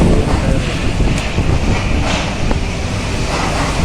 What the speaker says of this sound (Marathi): खूप सोसाट्याचा वारा सुटला आहे